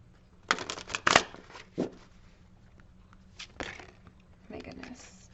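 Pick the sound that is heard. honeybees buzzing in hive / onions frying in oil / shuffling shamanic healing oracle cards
shuffling shamanic healing oracle cards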